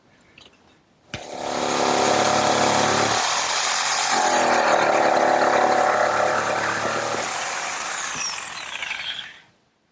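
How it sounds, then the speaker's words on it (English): Two stacked wooden boards being cut together with a power saw while building a hearthside settle, a loud steady whine starting abruptly and running continuously for several seconds before cutting off. "And now I'll just cut both boards at once."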